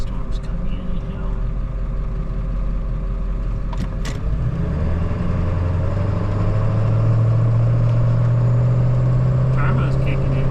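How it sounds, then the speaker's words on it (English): A truck engine rumbles steadily while driving, with a rising low drone as the turbo kicks in partway through; the sound stays loud and continuous, with faint voices underneath. "Turbo's kicking in though."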